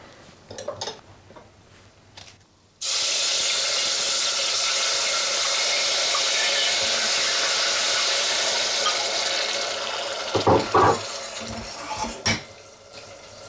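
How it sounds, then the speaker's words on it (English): Loud, steady sizzle as pureed tomatoes hit hot oil in a pan for a soy mince and aubergine curry, starting abruptly and hissing on for several seconds before a few utensil clinks. "These are 2 pureed tomatoes that you add to the oil"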